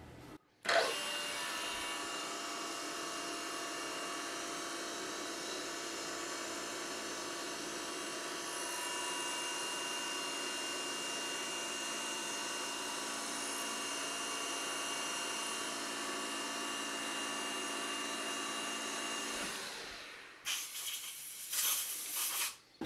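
A milling machine climb-mills stainless steel with an end mill, a steady, loud, high whining cut with a dense hiss that holds for about twenty seconds before stopping, followed by brief clatter and handling noise.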